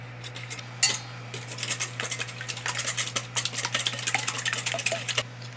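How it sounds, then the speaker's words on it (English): A metal utensil whisks beaten eggs with salt and pepper in a bowl, giving quick rhythmic clinking and scraping strokes that start after a single sharp tap and continue steadily, close and fairly loud, over a faint steady hum. "And then you just have to whisk it."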